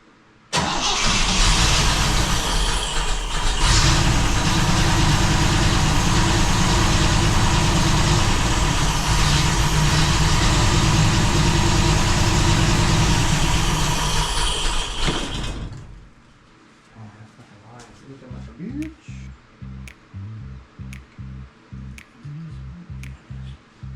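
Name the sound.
1962 fuel-injected Corvette engine running and idling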